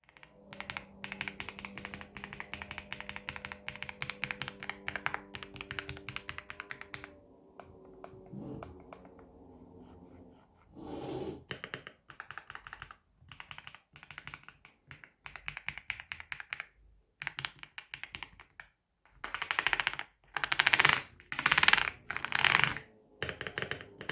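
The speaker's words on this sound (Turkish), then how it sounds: "Ama tuşlara basmış olduğum ve vermiş olduğu hissiyat anlamında ise yine sizlere bir ses dinleme testi gerçekleştireceğim." Mechanical keys clack on a Mchose X75 RGB gaming keyboard in bursts of fast, close typing, with pauses between runs and a louder, denser flurry of strokes near the end.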